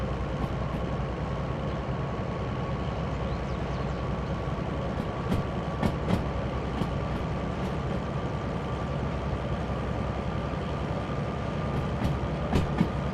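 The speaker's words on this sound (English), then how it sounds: "A train full of flatbed truck trailers." A freight train hauling flatbed truck trailers rumbles past in a steady, continuous roar, with faint clicks and rattles of the cars rolling along the track; no talking.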